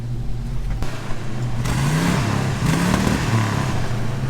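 A 1957 Chevy 3100 pickup's engine runs rich while the truck drives, a loud, close, steady drone that rises and falls as it revs, with no talk.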